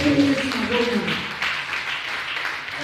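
Congregation applauding during a French-language church service, a sustained broadband wash of clapping with voices speaking and calling out over it.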